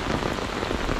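Steady rain falling and pattering on surfaces, a dense continuous hiss of drops, fairly loud and close with no voices.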